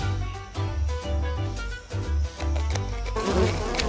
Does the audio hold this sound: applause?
no